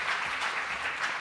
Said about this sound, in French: je peux les applaudir très fort